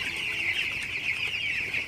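Broiler chickens in a poultry shed drinking water cluck in a continuous chorus at a steady moderate level, with no voices over them.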